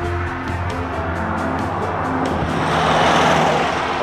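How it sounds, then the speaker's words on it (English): Road traffic rumbles past nearby, engines swelling and fading as vehicles go by, with a louder rush building toward the end. "Don't know if you can hear me because of all the traffic."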